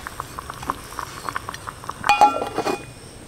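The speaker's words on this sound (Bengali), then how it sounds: "ঢাকা দিচ্ছি হাঁড়ির মুখে।" A cooking pot holding chicken and mustard oil gets its lid set on top, a few light clinks and a brief metallic rattle near the end over faint background bubbling.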